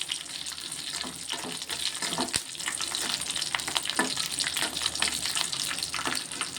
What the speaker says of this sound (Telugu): ఒక 2 నిమిషాలు కొంచెం కళ్యామాకు ఫ్రై అవ్వాలి.